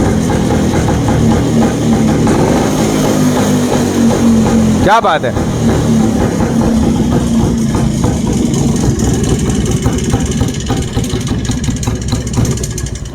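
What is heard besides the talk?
old Rajdoot motorcycle engine idling after kick start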